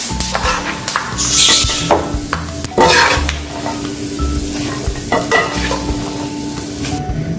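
Dry fruits and nuts frying in desi ghee in a pan, a continuous close sizzle broken by repeated scraping stirs and the clink of a spoon against the metal.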